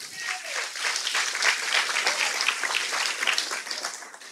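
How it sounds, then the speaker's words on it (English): A church audience claps for a woman, brisk, dense applause from a moderately sized crowd that rises and sways in intensity for a few seconds before tapering off. "Give her a hand clap."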